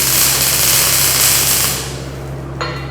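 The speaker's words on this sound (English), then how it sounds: "he's welding in those lock tabs or guide pins" A wire feed welder laying beads as lock tabs or guide pins go onto a shop built sawmill carriage, filling a wide gap: a loud, continuous crackling buzz that drops off near the end, followed by a brief sharp burst.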